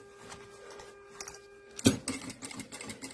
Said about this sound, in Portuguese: vou costurar um pé de máquina